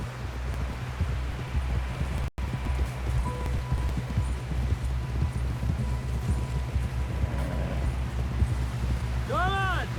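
Horse hooves clip-clopping at a steady gallop on a trail in Red Dead Redemption II, a continuous rhythmic patter with background ambience and a voice speaking over it.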